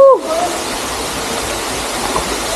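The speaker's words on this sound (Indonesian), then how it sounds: "Terlihat ya air terjun." Steady broadband rush of a waterfall on the Duyan River near Siabu village, Salo district, heard up close and continuous, with a brief voice or whistle-like tone at the very start.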